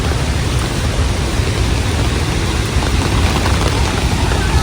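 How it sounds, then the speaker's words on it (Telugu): Spray from Athirappilly waterfalls in Thrissur, Kerala, falling as a dense, loud, steady hiss of water drops right at the microphone. "ఆ చినుకులు అవి ఉంటాయి కదా, మొత్తం మీద పడుతున్నాయి"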